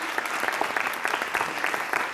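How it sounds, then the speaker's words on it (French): Studio audience at a charity telethon show in Auchel applauding after a hypnosis act, dense steady clapping filling the whole moment at moderate loudness. "Vous pouvez l'applaudir."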